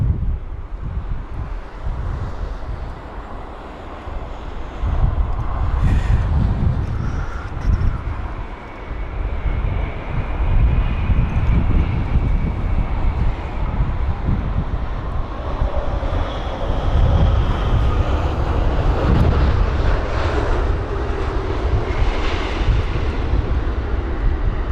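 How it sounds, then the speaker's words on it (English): A British Airways Boeing 787-9 Dreamliner lands on runway 27 right at London Heathrow on a windy day. Its steady engine roar and rushing noise hold for about twenty-five seconds, with strong wind buffeting the microphone throughout. "BA242, a 787-9 Dreamliner from Mexico City, a 9 hour and 53-minute long journey, which we can focus on right now"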